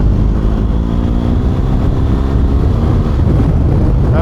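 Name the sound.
motorcycle wheel spinning on dusty ground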